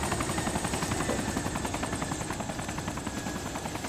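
A helicopter in DayZ Origins, its rotor thudding in a fast, even pulse that stays loud and close for the whole stretch, with a constant whine over the beating blades and no voices.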